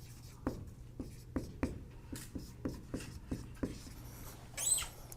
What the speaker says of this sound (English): I'm going to write it this way.